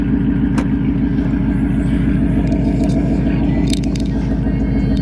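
A Ford Mustang GT exhaust idles with a deep, steady rumble and a fast, even low pulse that holds at constant loudness throughout.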